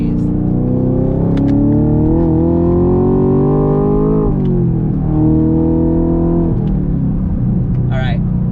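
A 2021 Chevrolet Camaro 2SS 1LE V8 pulls hard around a highway on-ramp, its loud exhaust note climbing steadily through the revs, dropping sharply at a shift, then rising again before easing off, heard from inside the car.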